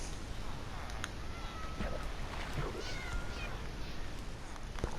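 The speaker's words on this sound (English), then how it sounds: "it still had flaws because you see there's a cat." A cat in the video game Minecraft on PS4, near an iron farm, gives a few faint meows over a dense, hissy background wash, with brief clicks scattered throughout.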